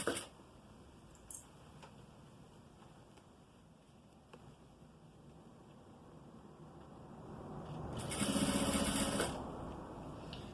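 A sewing machine closes the seam of a trapezoid-shaped zippered makeup bag, its motor whirring steadily close by and swelling into a louder burst near the end, with no talking.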